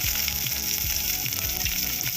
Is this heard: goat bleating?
no